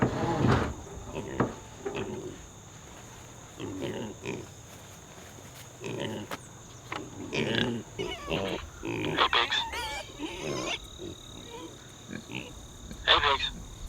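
Pigs grunt and oink in scattered bursts nearby on a farm, mixed with other animal honks and a person talking intermittently.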